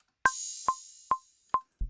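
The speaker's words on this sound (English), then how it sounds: "The crash sounds like this." A crash cymbal strikes once and washes out over two seconds, with short clicks ticking beneath it and a low thump at the end.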